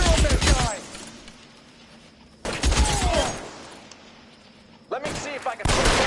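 Bursts of gunfire from the video game L.A. Noire crack out in three loud clusters of rapid shots separated by quieter gaps of a few seconds.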